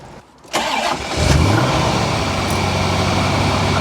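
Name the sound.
Corvette C4 ZR-1 engine starting with airbox on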